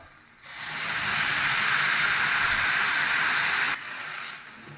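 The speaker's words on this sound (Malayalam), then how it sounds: "ഈ വെണ്ടയ്ക്ക ഒന്ന് വാട്ടിയെടുക്കാം" Okra sautéing and wilting in a pan, a steady loud hiss of steam that swells in quickly, holds for about three seconds, then drops back to a softer background hiss.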